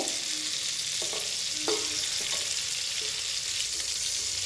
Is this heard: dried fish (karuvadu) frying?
yes